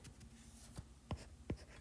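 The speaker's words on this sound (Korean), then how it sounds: "화면을 좀 넘겨야 되니까 식을 옆에다가 좀 써볼게요." A pen writes out a math formula on a page in a few quick, faint strokes and taps close by, in an otherwise quiet room.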